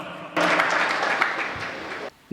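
Loud applause at a Hindi comic poetry gathering welcomes a poet, a dense burst of clapping that starts abruptly, holds steady for nearly two seconds, then cuts off.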